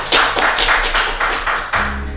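A small audience claps at a regional leadership talk in Maluku Tengah, with about eight crisp, evenly spaced claps in a short burst that sound close and fairly loud.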